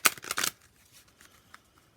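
Tarot cards riffled and shuffled by hand in a short burst of crisp, papery flutters lasting about half a second, close and fairly loud, then a few faint soft taps and near silence.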